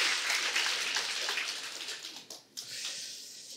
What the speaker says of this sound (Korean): 성도님들이 진심으로 영광의 박수를 쳤어요